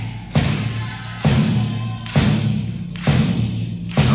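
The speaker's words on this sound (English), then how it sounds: "Are you bobbing to that kick?" Kick drum from a 1970 live performance, loud booming thumps landing roughly every second in a steady rhythm, with no speech over them.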